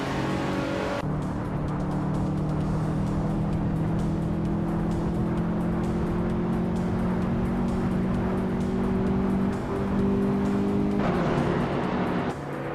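Several race car engines drone steadily and loudly together in a video game, close and continuous with slowly shifting pitch as cars run nose to tail, with no voices.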